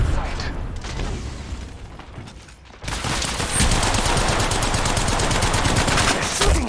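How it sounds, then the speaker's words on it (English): Heavy gunfire in the Apex Legends Mobile game, with dense rapid bursts of automatic shots that grow louder and more continuous halfway through, loud and close with busy battle noise. "They're shooting at me."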